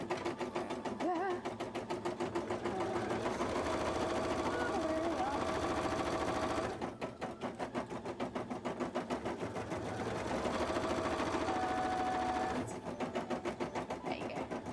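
Sewing machine running top stitching on cosplay fabric, a fast, even mechanical chatter in long runs with brief pauses between them, close by, with a voice talking softly over it.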